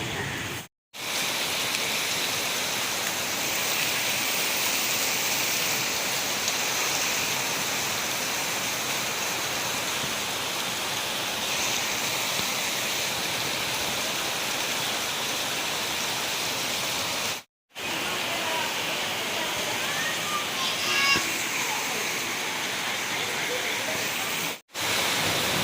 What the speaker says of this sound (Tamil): வெளியே வந்து பார்த்தா படு பயங்கர மழை பெஞ்சுன்னு இருக்கு